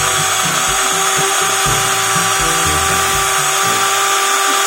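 A Black & Decker cordless drill running on a repaired battery whirs loudly and continuously up close, its steady motor whine carrying uneven low rattles throughout.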